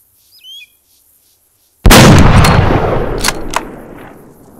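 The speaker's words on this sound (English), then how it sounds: "I'm going to take the shot now." A single loud long-range sniper rifle shot fires in a video game, an abrupt blast with a long rolling echo that fades over a few seconds, after faint birdsong in near silence.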